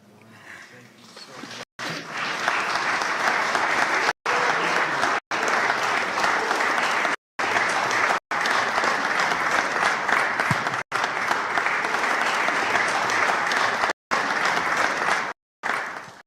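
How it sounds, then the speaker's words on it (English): An audience at an interfaith conference bursts into loud, sustained applause for a speaker, dense clapping that fills the room for several seconds and breaks off in a few brief cuts, with no clear talking over it. "Give her a wonderful hand clap"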